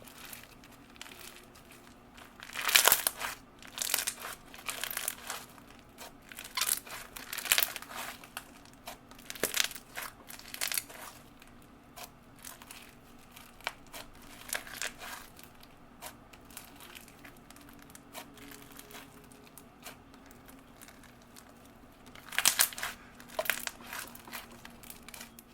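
A crunchy slime packed with purple foam beads is squished and pressed by hand close up, giving repeated bursts of crisp crackling and crunching separated by brief quiet pauses.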